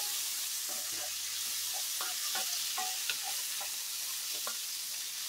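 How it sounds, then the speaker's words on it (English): Bacon sizzles in a pot, a steady, fairly quiet hissing crackle that carries throughout, with soft scraping and stirring taps at irregular intervals. "the bacon is cooking"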